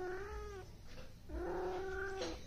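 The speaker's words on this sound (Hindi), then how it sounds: "कितनी प्यारी बिल्ली है" A cat meows twice indoors, each call long and drawn-out with a rising, wailing tone, close and fairly loud, separated by a short pause with no talking.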